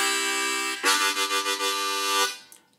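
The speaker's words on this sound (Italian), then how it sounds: "se un'armonica diatonica in tonalità di Do suona così" Diatonic harmonica in standard C key, playing a bright reedy chord that holds, then pulses in several quick rhythmic swells before stopping, followed by a faint short tail; solo and close.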